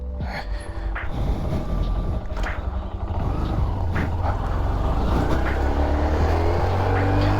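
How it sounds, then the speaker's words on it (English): A 2022 Honda Grom motorcycle engine runs steadily while riding, a continuous rumbling drone that rises slightly in pitch as it revs, close and loud, with a bit of wind noise. "This is my 2022 Honda Grom."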